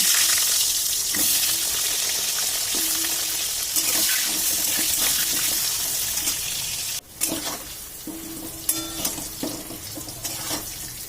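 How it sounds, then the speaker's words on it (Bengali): Cut potatoes frying in oil left over from frying katla fish, a steady close sizzle with occasional clinks and stirring scrapes from the pan, and no voices. "এবারে ওই মাছ ভাজার তেলেই আমি কেটে রাখা আলুগুলো ভেজে নেব।"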